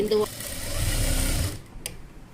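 A sewing machine runs a short stitch along the edge of folded fabric, a brief whirring burst followed by quieter handling sounds, with a voice speaking at the start.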